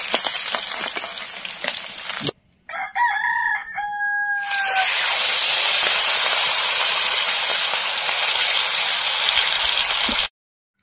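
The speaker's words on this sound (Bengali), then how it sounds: "এই মাছগুলো তুলে নেব আর বাকি মাছগুলো আবার ভাজা করে নেব" Rupchanda pomfret fish sizzles and spits loudly in hot frying oil, a dense steady crackle that drops out briefly while a rooster crows nearby, then returns full and close for several seconds before stopping abruptly.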